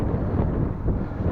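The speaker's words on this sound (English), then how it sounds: "we're going into the wind now" Wind buffeting the microphone while riding an Iron Horse Osprey 4.0 bicycle into a headwind, a loud, continuous low rumble with no break across the short stretch.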